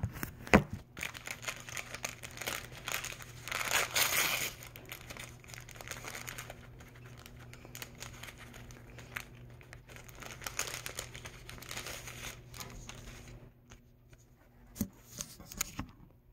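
Plastic surprise bag packaged with a plush toy being opened, with steady crinkling and rustling in bursts that come close and fairly loud, then fade to quieter handling and a few sharp crackles near the end.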